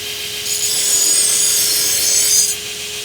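A steel knife blade of Shirogami steel gets its burrs filed off in one steady, close, scraping stroke lasting about two seconds, with a bright hiss and no voices.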